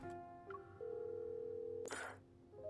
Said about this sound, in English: I'll try calling him one more time.